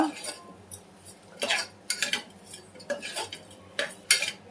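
A metal spoon stirs and scrapes green chillies around a cooking pan, in a run of sharp, loud clanking strokes spaced about half a second apart, close to the microphone, with no talking.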